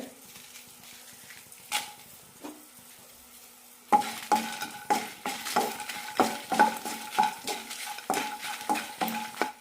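Eight dried red chillies sauté in a pan for drumstick leaf idli podi, a quiet start giving way to steady sizzling frying with repeated scraping stirs of a spatula against the pan.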